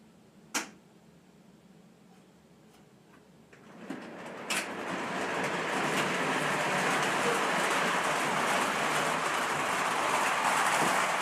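A quiet hum gives way to a rising, sustained rumbling rattle of model trains running along track on a large layout, staying steady and fairly close.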